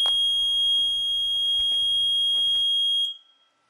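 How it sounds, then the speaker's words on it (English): A homemade LPG gas leakage detector circuit on a PCB sounds its alarm: one loud, continuous high-pitched electronic tone that holds steady for about three seconds, then cuts off abruptly, leaving a brief faint trailing blip. "our circuit LPG alarm is now working good"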